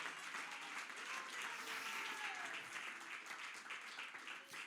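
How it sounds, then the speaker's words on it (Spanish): A church congregation claps steadily in praise during a Spanish-language service, a sustained wash of applause with a faint tonal line underneath. "Vamos, dale palmas de alabanza al Cristo de la gloria."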